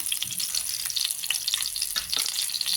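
Black cumin and ripe green chillies spluttering in a little hot oil, a continuous bright crackle with scattered pops and occasional stirring scrapes, close and steady.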